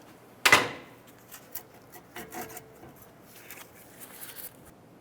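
A pry tool scrapes and knocks against the front brake caliper of a 2009–2015 Honda Pilot. One sharp metallic scrape is followed by several softer, intermittent rubbing clicks up close.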